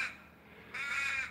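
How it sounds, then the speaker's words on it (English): Two drawn-out caws from Australian ravens in a front yard, the second louder and longer, both fairly close with a faint outdoor background. "I just call them crows, guys, but people, I think their real name is Raven."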